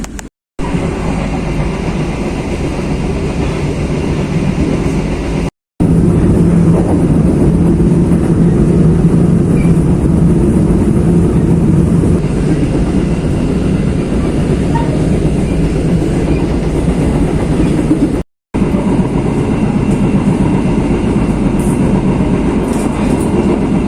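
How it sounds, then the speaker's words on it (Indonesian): The Ranggajati passenger train departs Rambipuji station in Indonesia, rumbling steadily and loudly nearby, with low rolling noise and faint rhythmic clatter of wheels on rails. "kereta api Ranggajati kembali diberangkatkan dari stasiun Rambi Puji"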